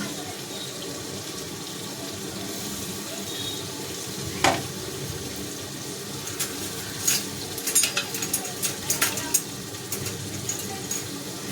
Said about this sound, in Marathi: आपण याच्यामध्ये तडक्याला टाकून घेतलं जिरं घेतलं राई घेतलं कढीपत्ता टाकला